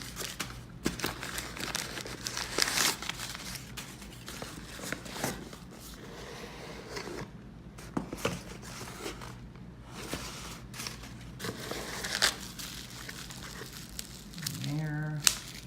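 Packaging for a Carolina Metal Masters mirror kit for a 2018 Jeep JL Wrangler being unwrapped, with scattered close crinkling, rustling and tearing over several seconds at a quiet level, plus brief handling knocks.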